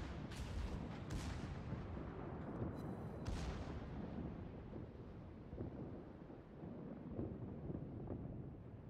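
Heavy naval gunfire from the Izumo battleship in World of Warships: a dense, continuous low rumble with a few sharper booming salvos near the start.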